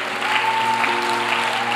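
A church congregation claps steadily in a dense, continuous burst of applause that fills the room, loud and close throughout.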